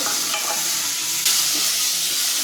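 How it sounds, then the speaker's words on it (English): Mushrooms being stirred and sautéed in a pan for risotto, giving a close, steady sizzle with soft scraping stirs throughout and no talking. "I'm gonna mix that up together until the mushrooms are soft and cooked."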